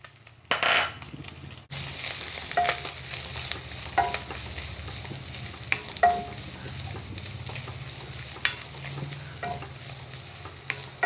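Coconut roasting in a pan: a soft, continuous sizzle with repeated scraping and stirring strokes and occasional light clinks of a spoon against metal.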